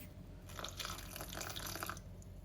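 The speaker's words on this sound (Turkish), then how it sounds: "Bir miktar suyu mayanın üzerine ekledim." Water pours over yeast and flour in a bowl, a faint, close trickle and splash that runs steadily for a couple of seconds.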